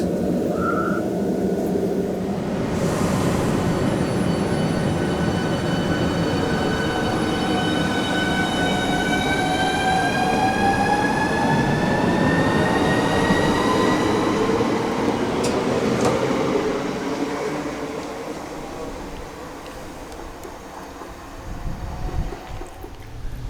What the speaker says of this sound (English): So here we are, Thanet Parkway. First train in.